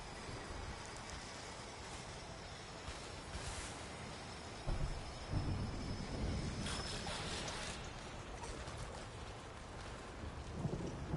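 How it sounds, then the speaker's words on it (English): Thunderstorm in the video game Horizon Forbidden West: steady heavy rain hisses throughout while deep rumbles of thunder roll in and swell partway through, all fairly distant and continuous. "I can outlast the storm."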